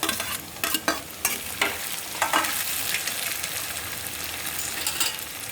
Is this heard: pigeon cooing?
no